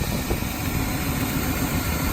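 Square body ramp truck engine idling steadily, a continuous close rumble with an even, unbroken drone throughout.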